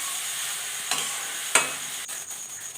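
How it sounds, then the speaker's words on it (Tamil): Grated beetroot sautéing in ghee for beetroot halwa, a soft steady sizzle with a couple of sharp scrape-and-clink strokes of the stirring spoon against the pan, close and alone. "இந்த நெய்யிலே நல்லா வதங்கி வரணும்"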